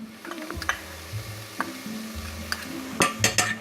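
Red onions and garlic hit hot coconut oil in a pan, giving a steady close sizzle with scattered ticks, scrapes and stirring knocks of a utensil against cookware.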